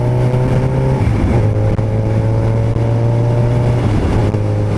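A 1993 motorcycle engine, cold and reluctant to shift, runs at a steady loud idle with a droning hum that dips briefly at moments as the revs fluctuate.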